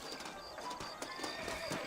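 Horses whinny and their hooves clip-clop at a steady trot in the video game Red Dead Redemption, around a horse dealer in town; the sounds are moderately loud and continuous across a brief stretch.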